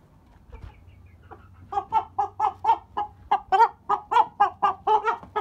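A rooster clucks in a fast, steady series of loud, close calls that build in intensity, with faint background noise.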